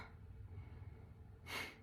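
A voice imitates rapid breathing through the nose, a short burst of quick, noisy exhales near the end after a quiet stretch, close and fairly soft.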